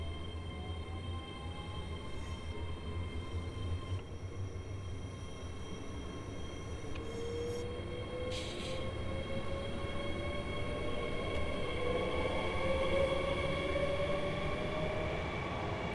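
A BR Class 802 train in GWR livery rolls steadily in a video game, with a constant low rumble and faint rising tonal whine building slowly across the run, no voices.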